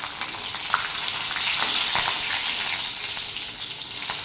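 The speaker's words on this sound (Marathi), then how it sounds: "तेल गरम झालेलं आहे त्यामध्ये मी पाव चमचा जिरे घातलेला आहे आणि एवढं लसूण घातलेलं आहे" Cumin seeds and garlic crackle in very hot oil in a wok, a loud, dense, continuous sizzle with faint ticks and pops running through it and no speech.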